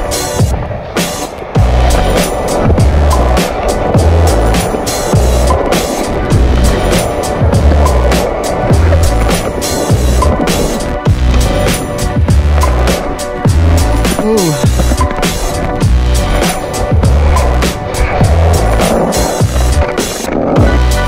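Skateboard rolling at a skate park, a loud continuous rumble of wheels over concrete with rhythmic clacks and thumps from joints and tricks, steady throughout and close to the board.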